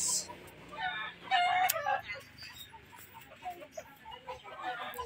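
Chickens and a rooster at a market poultry stall, with a clear crow near the start followed by scattered clucking and crowing against busy background noise.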